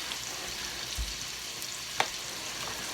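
Chicken cutlets sizzle steadily in a pan with a soft, constant frying hiss, broken by a faint knock or two of utensil movement.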